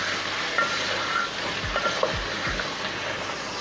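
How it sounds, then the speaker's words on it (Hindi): Chicken browning in a pot for aloo chicken shorba, with a steady close sizzle and a few stirring scrapes partway through, no voices. "इसको अच्छी तरह से हम भून लेंगे"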